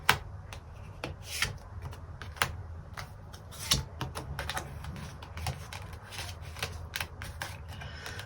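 Tarot cards shuffled and drawn by hand, a dense run of light riffling flicks and soft slaps in quick, uneven bursts, close by with no talking.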